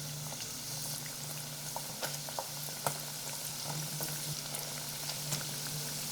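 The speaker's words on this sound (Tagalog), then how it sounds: "Pirituhin natin to into low heat para hindi agad masunog yung breadcrumbs natin" Breaded fish fillet fries gently in oil over low heat, giving a steady soft sizzle with scattered small pops and crackles, heard close and alone.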